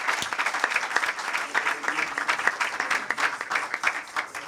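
A church congregation applauds the Lord during a service, with lively, uneven clapping that swells and dips throughout.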